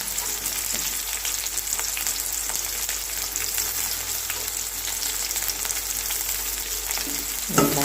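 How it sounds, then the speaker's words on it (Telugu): Onions and washed dried fish sizzle steadily in a hot pan for a brinjal curry, a continuous close crackle with occasional stirring sounds near the end. "ఉల్లిపాయలు వేగిపోయాయి కదా"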